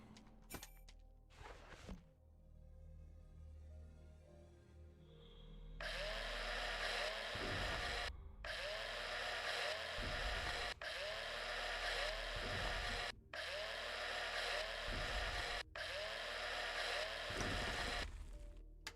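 Handheld mining drill in the space survival game Breathedge, a loud, steady grinding whine that starts partway through and runs continuously in long bursts with brief cutoffs between them.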